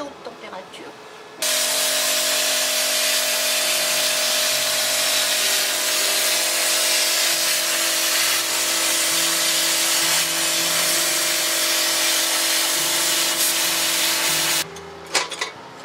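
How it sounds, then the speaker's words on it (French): A plasma cutter slices through the arm of an iron sculpture with a loud, continuous hiss and steady hum lasting over ten seconds, starting and stopping abruptly. "je vais découper ce bras au découpeur plasma"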